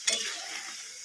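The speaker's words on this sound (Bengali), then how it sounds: "সয়াবিনগুলো আমার খুব ভালো করে ভাজা হয়ে গেছে" Soybean chunks fry in oil in a pan: a sharp utensil clink opens a bright, close sizzle that slowly fades over about a second.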